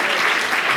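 Audience applause at the opening of an association congress, a steady dense wash of clapping filling the short moment at fairly strong level with no voices over it.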